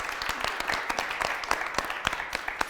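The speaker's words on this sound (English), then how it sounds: "Can we get a round of applause for Dr." A small group claps for Dr. Cheryl Matias, a brief, moderately quiet patter of individual hand claps that stays fairly even throughout.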